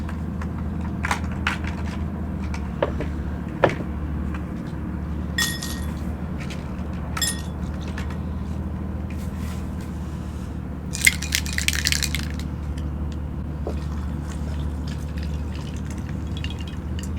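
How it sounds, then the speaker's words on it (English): Ice cubes dropped into a short glass while mixing an Apple Jack Rabbit cocktail, sporadic clinks and clatters with a brief busier burst of rattling ice, no talk. "Get some more ice in my short glass."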